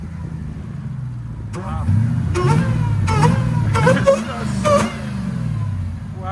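A Demon-swapped Jeep Gladiator with headers and a Valvetronic Designs exhaust rumbles deeply, then barks through several quick throttle blips close by, while a person exclaims.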